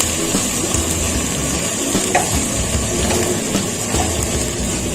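White cumin seeds hitting hot oil with chicken in a handi, a steady close crackling sizzle with faint stirring scrapes, continuous and moderately loud without talk.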